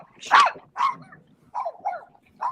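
A puppy barks in short, sharp bursts, four or five yips and barks spaced irregularly, fairly close and loud with quiet gaps between.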